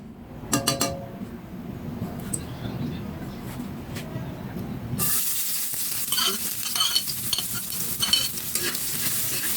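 Garlic and onion sizzle in cooking oil for pancit canton, starting as a quiet fry with a few utensil clinks and stirring, then turning into a loud, steady hiss from about halfway through as the aromatics hit the hot oil.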